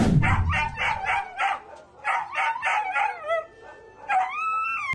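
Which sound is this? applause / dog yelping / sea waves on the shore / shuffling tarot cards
dog yelping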